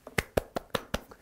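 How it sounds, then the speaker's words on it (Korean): A handful of sharp hand claps, about six quick separate slaps in an uneven rhythm, close and fairly quiet, with no talking. "박수."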